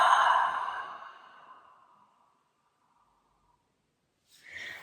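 A deep, breathy exhale during yoga breathing starts strong and close, fades away over about two seconds into silence, and a softer breath follows at the end.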